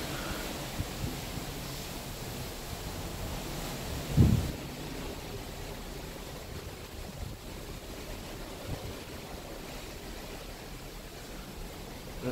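Ocean waves seen from the deck of the Carnival Splendor cruise ship on the Mexican Riviera make a steady, faint wash of broadband noise with wind, with one brief thump midway and no voices.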